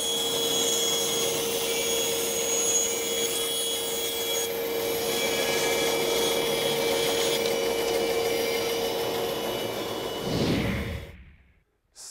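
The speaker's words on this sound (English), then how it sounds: "Be sure to use dust collection with your bandsaw." A bandsaw cuts wood in a woodshop with dust collection running, a steady loud whine and rush throughout, then spinning down and cutting off near the end.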